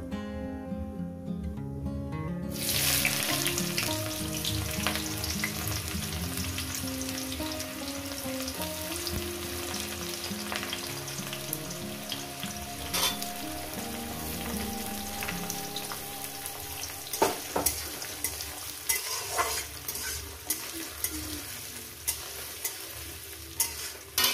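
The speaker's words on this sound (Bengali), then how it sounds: "দিয়ে দেবো এখানে পেঁয়াজ কুচো" Chopped onion sizzles in hot oil with a halved bay leaf and whole garam masala for a kajal gouri fish curry. A steady, close frying hiss with stirring begins after a short pause and continues under background music.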